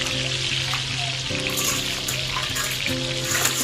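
Food sizzles in a hot wok with a steady frying hiss that never lets up, layered over a low, droning hum.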